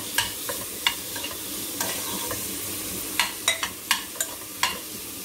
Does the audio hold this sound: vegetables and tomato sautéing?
yes